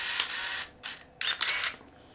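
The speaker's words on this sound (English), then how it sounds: "Oh, shutter fires." Minolta SLR film camera body fitted with a 35–105 mm Minolta zoom lens, its shutter firing with a couple of short mechanical clicks and whirring bursts, close and fairly quiet, no talking.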